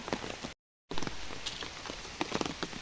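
Steady rain falls on a surface outdoors, a dense, even hiss with scattered louder drops, broken by a brief silent gap before the downpour resumes.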